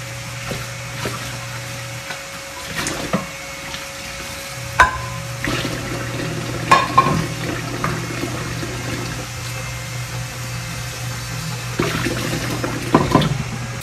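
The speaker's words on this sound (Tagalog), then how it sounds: "niluluto ko na yung hotdog" Hotdogs fry in a pan, giving a low steady sizzle with occasional clinks and bumps nearby, heard alone without talk over a continuous background hum.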